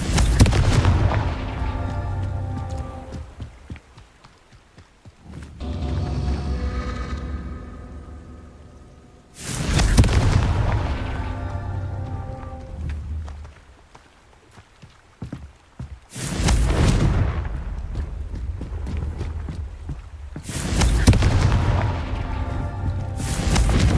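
Confringo fire spells detonate in Hogwarts Legacy: four loud, booming blasts come in a steady rhythm, each with a rumbling tail that fades into quieter lulls between them.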